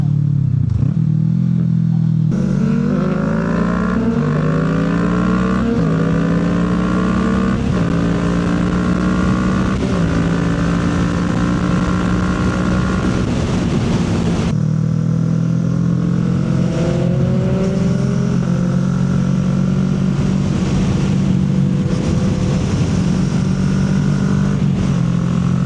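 A Kawasaki Ninja 650 motorcycle accelerates hard and loud up close, its engine pitch climbing and dropping through several gear shifts in a continuous run.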